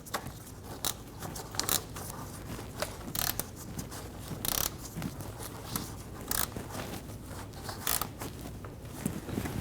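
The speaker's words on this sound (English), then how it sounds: "We're going to go through and snug down these 2 bottom bolts." A ratchet snugs down the bottom radiator bolts on a 2012-2022 Volkswagen Passat, giving repeated short metallic clicking bursts at an uneven pace, fairly close and moderately quiet.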